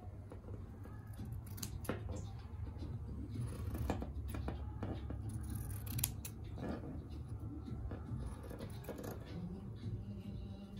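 Scissors snip through material while Christmas tree decorations are being made, a quick series of sharp close cuts in an irregular rhythm over a quiet room.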